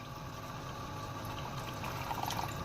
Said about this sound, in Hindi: अब इसमें मैं ये सारा पानी डाल दूँगी और इसको कवर करके छोड़ दूँगी